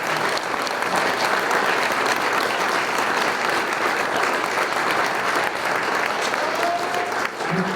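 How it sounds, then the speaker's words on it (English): Dense, steady applause from a banquet crowd for the inductees at a school athletic hall of fame induction ceremony, filling the room for several seconds with hardly a pause. "let's give a round of applause for all the inductees here tonight."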